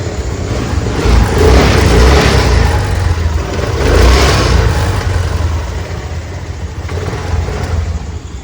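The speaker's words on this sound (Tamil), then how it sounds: "இன்ஜின் வந்து தரமாக இருக்கும். எடுத்து அப்படியே ட்ரை பண்ணலாம்." Honda Activa scooter in good condition starting up and revving, the engine note swelling in two surges around a steady idle, loud and close, with no talk.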